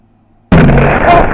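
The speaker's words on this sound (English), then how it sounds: "Oh my god, an explosion!" An explosion in The Oregon Trail game bursts in suddenly out of near silence, loud and close, followed by a dense, sustained roar.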